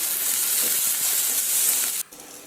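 Okra fries in a pan, giving a steady hissing sizzle with a few soft stirring knocks, loud and close, then dropping suddenly to a quieter hiss near the end.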